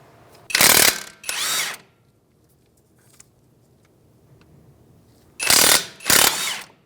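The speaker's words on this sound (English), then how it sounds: "We're going to put a wrench on one side and an impact on the other." An impact wrench works strut bolts loose on a 2007-2015 Mazda CX-9, two loud short bursts, a quiet gap, then two more bursts.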